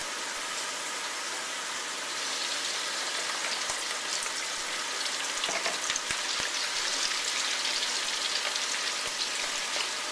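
Shrimp marinated in cornstarch and sesame oil frying in oil at moderate heat, giving a steady, close crackling sizzle that runs unbroken and grows slightly denser partway through.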